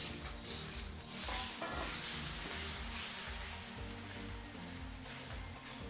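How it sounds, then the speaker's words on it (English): An egg frying in hot oil in a wok for a vegetarian stir-fry omelette, giving a steady, close sizzle with soft scraping and stirring throughout and no voices. "Then what we're going to do is we're going to add in our egg."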